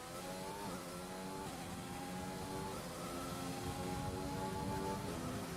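Formula 1 cars in F1 2020 at the Japanese Grand Prix, Suzuka, with a McLaren running just ahead: a steady high-revving engine whine that rises and dips through gear changes, continuous and moderately distant.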